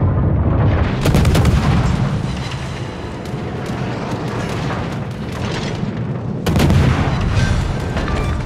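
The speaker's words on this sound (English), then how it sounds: "Anti-aircraft gun crews are on full alert." Anti-aircraft guns on a warship in World of Warships keep up sustained, heavy booming fire, loud and dense throughout, with sharp bursts standing out near the start and again toward the end.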